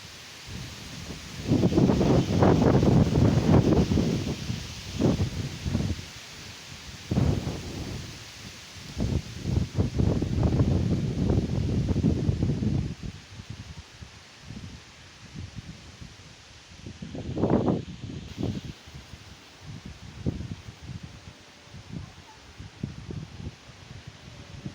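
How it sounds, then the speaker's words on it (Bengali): Strong storm wind before rain bends trees, heavy roaring gusts with rustling leaves and microphone buffeting, rising and falling in several surges with quieter lulls between. "বাতাসের বেগের কারণে দেখেন গাছপালা একদম শুয়ে পড়ছে"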